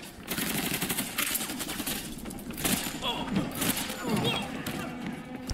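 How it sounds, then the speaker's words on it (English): Rapid movie gunfire from an action film, a dense run of sharp shots and bursts crackling throughout, with people talking over it as they watch. "He shot twice and three guys fell."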